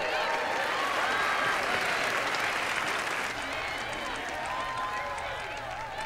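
Warm audience applause for a performer after a song on stage, a full, continuous wash of clapping with crowd noise and some voices mixed in, easing slightly toward the end.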